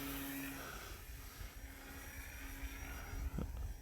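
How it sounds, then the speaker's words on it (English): Propeller drone of an RC plane doing an inverted pass over snowy ground on a winter morning, a steady, moderately loud whine that holds throughout with slight swells. "I'll do one more inverted pass here before we line her up for a landing."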